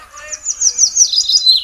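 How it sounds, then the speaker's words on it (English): A loud bird from The Sims 3 game chirps in a rapid run of high tweets, close and continuous for over a second, with no talk over it. "That was a loud bird."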